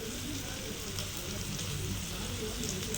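Dried anchovy and stingray pieces frying in hot oil give a steady, dense sizzle and crackle that holds evenly at close range for the whole stretch, with no voices over it.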